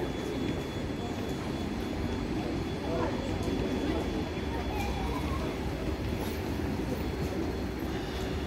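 Steady low rumble of a Lastochka suburban train arriving at Kaliningrad's Northern Station, constant and fairly loud, with faint squeals and clatter over the drone.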